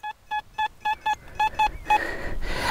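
A metal detector gives a series of about eight short, even electronic beeps in quick succession, close and clear, followed by soft ground and handling noise.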